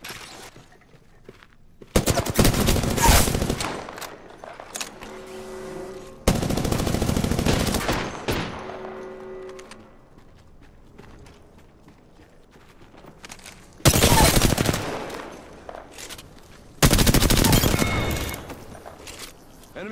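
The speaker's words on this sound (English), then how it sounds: "shots fired, and they're hitting me" Video game gunfire crackles in several loud automatic bursts, each lasting a second or two, separated by quieter stretches with faint footsteps and small clatters.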